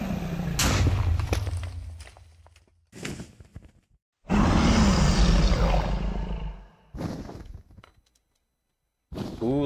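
Minecraft's Ender Dragon gives loud, roaring bursts that swell and cut off, several separate blasts with silent gaps between them.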